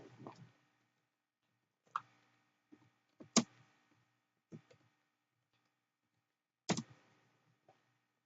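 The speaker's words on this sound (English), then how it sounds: "So I'm going to type in the password." Sparse, faint clicks of password keys being typed on a computer keyboard during an Active Directory installation, arriving as a few isolated taps spread across a quiet room with long pauses between them.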